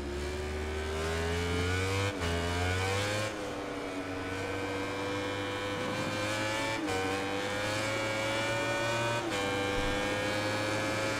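In the MotoGP 19 racing game, a motorcycle engine on the Thailand circuit whines and climbs in pitch as it accelerates. Quick gear-change dips break it several times, then it rises again, a loud, continuous howl close up with a faint hum underneath.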